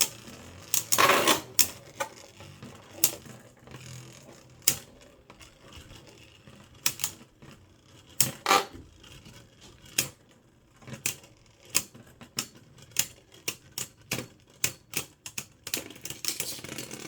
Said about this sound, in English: Nice hit from Roktavor, but Luinor holds it in.